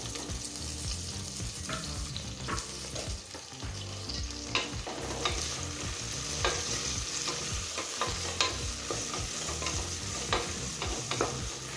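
Mint leaves and green chillies frying in a pan for coconut milk rice, a close, busy sizzle with repeated scraping strokes of a stirring spoon and no voices.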